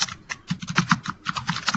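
Rapid typing on a computer keyboard, a close, uneven patter of individual key clicks with short pauses between bursts and no talking.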